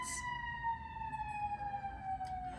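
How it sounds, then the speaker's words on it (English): A siren wails in the distance with a steady, slowly falling tone, faint against a low background hum. "Excuse the sirens."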